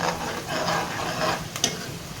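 Onions fry in a pan for lauki chana dal, a steady sizzle with soft rhythmic stirring scrapes and a brief clink of the spoon near the end.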